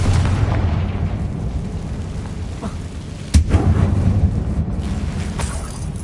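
A Confringo blast spell goes off in Hogwarts Legacy inside a closed, tomb-like mine, a single sharp boom about midway, over a steady rumbling game ambience with no talk.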